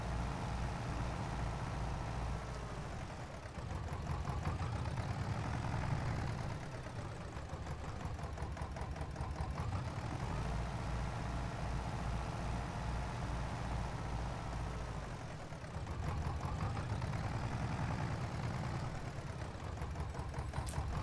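Tractor engine in Farming Simulator 22 running steadily at a mid-pitched drone, loud and continuous with slight rises and dips in revs, heard alone without voices.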